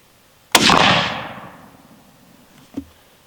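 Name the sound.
Remington rifle gunshot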